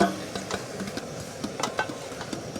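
Chopped parsley, mint and dill are mixed together close up, giving soft, irregular stirring and tossing taps over a faint background.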